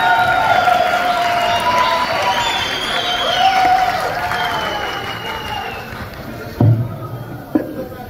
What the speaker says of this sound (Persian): لطفا تشویق کنین.